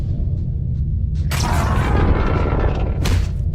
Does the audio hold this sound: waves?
no